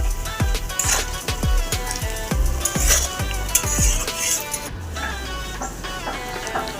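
Chopped onions and crushed garlic sizzle in a little oil for a spicy mutton curry, a loud close hiss punctuated by repeated scraping and clanking of a utensil against the pan.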